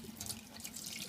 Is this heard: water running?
yes